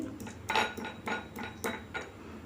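Roasted spices and mustard seeds pounded in a mortar and pestle for mango pickle, five or six distinct hard knocks at an uneven steady pace, close and clear with no talk.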